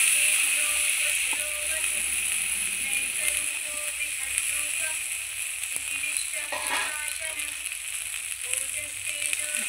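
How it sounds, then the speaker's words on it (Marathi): Washed guar bean pods sauté in a hot pan, giving a continuous close sizzle with occasional stirring scrapes and clatter. "ते चांगली परतून घ्यायची"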